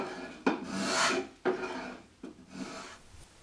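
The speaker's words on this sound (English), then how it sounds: "by using the back of the bevel and pushing the chisel with my armpit and the weight of my upper body" A hand chisel is pushed through wood with body weight, giving three long rasping scrapes, each starting with a sharp bite and trailing off, close and alone, with no talk.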